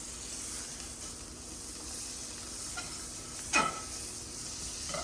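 Butter sizzles softly in a frying pan with a steady low hiss, and a sharper scrape or spatter stands out near the end.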